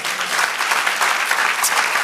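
Church congregation claps for the Lord during a sermon, a brief, bright burst of dense applause at steady strength.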